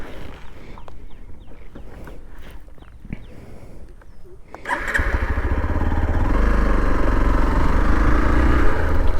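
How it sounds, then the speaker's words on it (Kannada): A motorcycle sits quietly outdoors among faint clicks and a distant rooster, then its engine fires up about halfway through and settles into a loud, steady idle rumble close by. "ಸೊ ನಮ್ಮ ಗಾಡಿ ಸ್ಟಾರ್ಟ್ ಮಾಡೋಣ, ಹೋಗೋಣ ಇವಾಗ."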